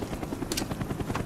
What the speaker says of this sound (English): Cobra, ready for deployment.